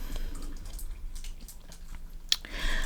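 A dog chews quietly in the background indoors, soft irregular wet crunching and gnawing sounds at low level, with one sharper click near the end.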